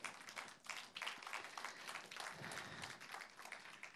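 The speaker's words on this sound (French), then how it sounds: "on peut applaudir." Audience at a French-language talk applauding, a faint, steady patter of many hands clapping at a distance, sustained through the whole stretch without voices on top.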